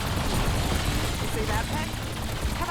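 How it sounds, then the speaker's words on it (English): Napalm Burst augment going off in Call of Duty Zombies, a dense burst of fiery explosions and rapid gunfire, loud and continuous, with a voice speaking over it. "There was Napalm Burst activating, and yeah, they're all dead"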